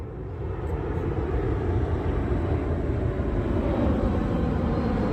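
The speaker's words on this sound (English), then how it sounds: "overhead airplane going through." An airplane passes overhead at night by a cemetery in Orlando, a steady broad roar that holds loud and even throughout with no voices.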